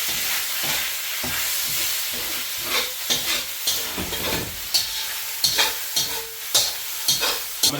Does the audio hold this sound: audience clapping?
no